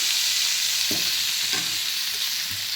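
Steady hot-oil sizzling of a tempering added to buttermilk curry fills the clip, with a few soft clinks of stirring, no voices.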